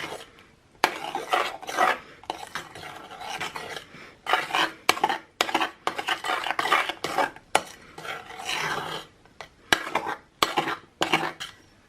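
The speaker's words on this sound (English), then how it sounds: "we'll pour over the cooled raspberry puree and fold it through until it's completely incorporated" Raspberry puree folded into mousse with a spatula in a bowl: a steady run of close, wet scraping and swishing strokes against the bowl, repeating in short bursts with brief pauses, no voices.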